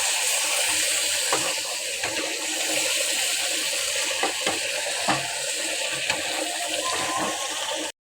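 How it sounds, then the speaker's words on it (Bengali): Turmeric and other spices for a dal sauté in a small pot, with a continuous sizzle broken by repeated scraping and knocking from stirring. "এখন আমি আরেকটু কষে নেব এগুলা উপকরণগুলো"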